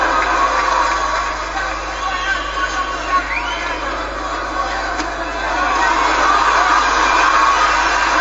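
A packed boxing arena crowd in Belfast keeps up a steady, loud roar and murmur at a bout between Carl Frampton and Jérémy Parodi, swelling slightly toward the end, with a commentator talking over it.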